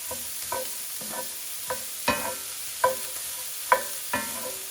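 Carrots and vegetables cooking in a frying pan for fried rice with Spam and pineapple, with a steady faint sizzle under repeated scraping, stirring strokes of a utensil against the pan, about eight distinct clacks spread evenly.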